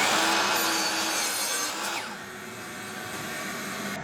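Miter saw cutting a short piece of wood, a loud continuous whining buzz that drops slightly in level partway through as the blade runs down, heard alone.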